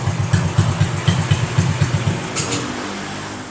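An old Honda CB motorcycle idles smoothly at close range, its engine thumping in a slow, even rhythm before settling to a quieter hum, with no talk over it.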